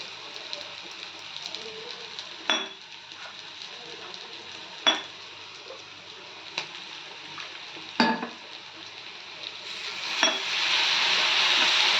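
Fenugreek curry frying in a pan is stirred, a soft steady sizzle broken by a few sharp scrapes and knocks of the spoon against the pan, with the sizzle swelling louder at the end.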